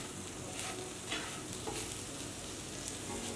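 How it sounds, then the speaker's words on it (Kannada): Masala-coated raw plantain pieces stirred in a pan over a low flame, a steady gentle sizzle with soft scraping strokes of a spatula recurring every half second or so, close and alone. "ಲೋ ಫ್ಲೇಮ್ ಇಟ್ಕೊಂಡು ಚೆನ್ನಾಗಿ ಮಿಕ್ಸ್ ಮಾಡ್ಕೊಳ್ಳೋಣ."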